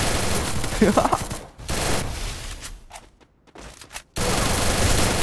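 Loud, close automatic gunfire in Garena Free Fire rattles in rapid bursts, breaks off briefly into near silence with a few scattered shots, then resumes as a dense sustained burst.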